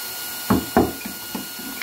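A hand press sets grommets in a banner, giving two sharp thumps close together and then a few lighter clicks and taps.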